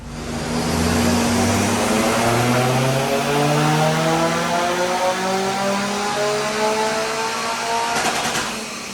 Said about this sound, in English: So that's what we'll be doing on the dyno today, and hopefully get some power.